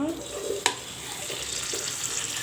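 Five tomatoes dropped into hot oil in a pan for a ridge gourd chutney give a steady close sizzle with one sharp click near the start, and no voices.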